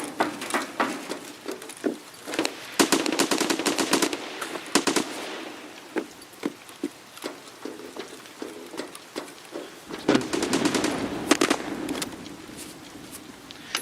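Rapid automatic gunfire rattles in Escape from Tarkov, with quick high-rate bursts and scattered single cracks spread across the stretch, fairly distant and moderately loud with no talk.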